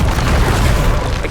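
Confringo fire spell blasting in the video game Hogwarts Legacy, a dense continuous boom with heavy low rumble and crackling noise filling the whole moment, loud and close with no voice.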